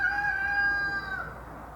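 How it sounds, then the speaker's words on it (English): A rooster crows once in a long, drawn-out call at mid-distance, fading out at the end over faint background noise. "The rooster should have been done crowing."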